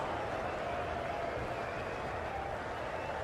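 Steady roar of a cricket stadium crowd cheering and applauding during a Guyana Amazon Warriors versus San Francisco Unicorns match, sustained and dense throughout with no distinct voice.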